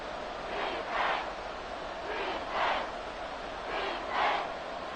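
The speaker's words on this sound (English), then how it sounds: "This crowd doing all they can." A stadium crowd in a Madden football video game roars faintly and steadily in the distance, swelling in three gentle waves with a low murmur beneath.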